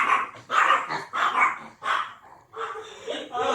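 A pet dog barks and yips in a series of short, loud bursts close by, with the sound settling into a brief whine-like tone near the end.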